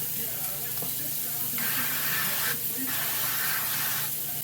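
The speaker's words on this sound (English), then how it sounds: "I'm going to give that a good spray with our avocado oil" Two short hissing bursts of avocado oil spray onto a baking dish, close by, separated by a brief pause against a quiet room background.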